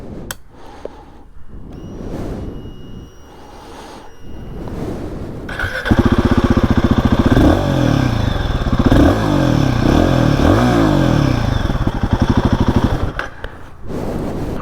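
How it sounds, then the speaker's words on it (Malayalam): A Royal Enfield Guerrilla 450 motorcycle fires up after a few quiet clicks, then settles into a loud, steady exhaust note with deep, rhythmic thumping and brief revs, recorded up close without talk. "ഞാൻ ജസ്റ്റ് എക്സോസ്റ്റ് സൗണ്ട് ഒന്ന് കേൾപ്പിച്ചു തരാം."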